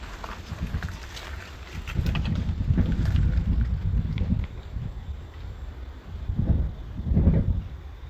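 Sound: wind blowing through a hollow tree in the forest

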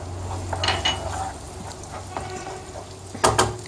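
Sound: tomato paste sizzling in hot oil in a pan

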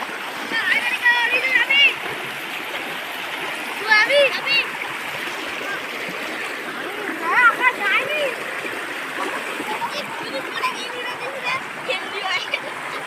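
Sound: strong flood water current flowing through village

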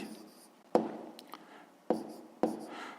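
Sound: writing during a math problem

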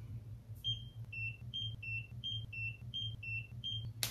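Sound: skincare device beeps and completion jingle

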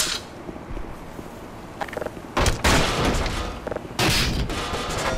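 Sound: gunshots in the video game Black Mesa

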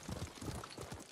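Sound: horse hooves, from a video game

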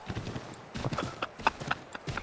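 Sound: horse hooves clip-clop in Assassin's Creed video game

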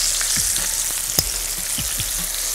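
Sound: onions frying in the pan

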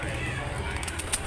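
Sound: pigeons cooing at a market

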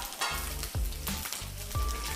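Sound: garlic frying in oil

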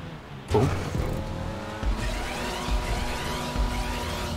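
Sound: stock car racing in video game GTA 5 Online

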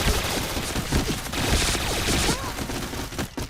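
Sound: gunfire in the Point Blank video game

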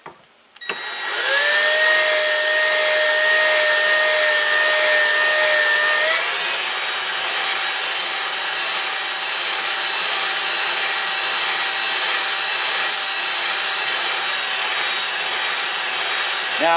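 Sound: drill turning screw in barrel

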